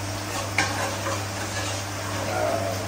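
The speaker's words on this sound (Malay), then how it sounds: "Kita boleh kacau-kacau." Spicy chicken being stirred in a cooking pot gives soft scraping and light clinks over a faint sizzle, with a sharper knock near the start and no talk.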